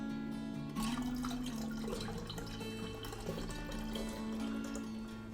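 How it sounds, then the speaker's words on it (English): Watermelon juice poured into a hollowed-out watermelon keg, a continuous close splashing trickle of liquid under steady music with no speech. "I'll go ahead and I'll pour in the watermelon juice right on top"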